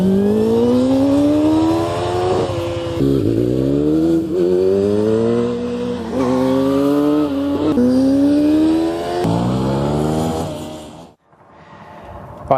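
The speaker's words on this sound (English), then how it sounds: "get you used to accelerating hard in first gear, up and down the runway" A motorcycle accelerating hard in first gear along a runway, engine revving and rising in pitch repeatedly, several times in succession, loud and close, before cutting off abruptly near the end.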